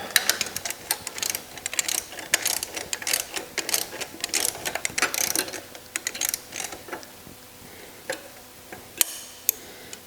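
Ratchet wrench clicking while torquing the timing-chain bolts on a 2013 BMW 535ix engine, a quick series of sharp close mechanical ticks in bursts with short pauses.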